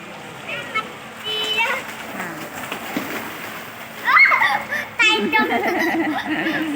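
Fish at a Thai temple on the Chao Phraya river splash and slosh in the water as they are fed, with bursts of splashing under excited chatter and children's voices nearby.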